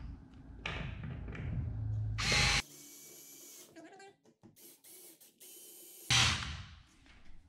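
Power driver tightening the screws of an in-wall TV wire box into drywall, heard as several loud mechanical whirring bursts with ratcheting clicks and short pauses between them, close to the microphone.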